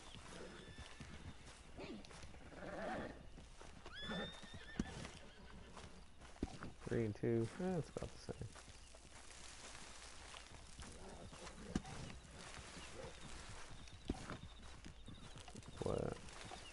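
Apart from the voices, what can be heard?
horses neighing and hooves clip-clopping in video game Red Dead Redemption II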